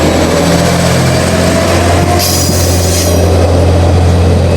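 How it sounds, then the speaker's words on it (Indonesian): A train pulls out of a station in rural Japan with a loud, close, steady rumble of rolling wagons and a high wheel squeal rising near the middle, and no voices. "Kita lihat kereta api berangkat lagi lur."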